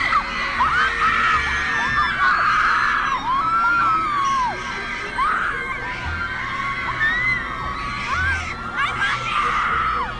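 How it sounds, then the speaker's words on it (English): Fake screaming in an Instagram reel: several voices shriek and squeal in overlapping, pitch-bending bursts, loud and constant, with crowd-like shouting and occasional bangs underneath. "Fake screams is crazy"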